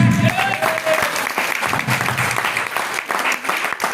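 Audience applause at a cheque presentation event, dense steady clapping from a crowd with voices calling out over it throughout.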